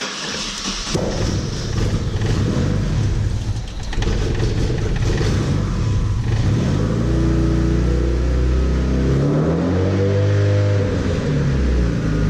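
A Datsun 510 engine, running rich, turns over and catches, then idles loudly up close with a rough, pulsing throb that grows steadier toward the end, no speech over it.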